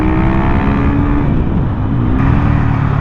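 A 2019 Husqvarna FS 450 supermoto motorcycle under way, its loud single-cylinder engine droning steadily close by, with a rising pitch sweep as it gains speed.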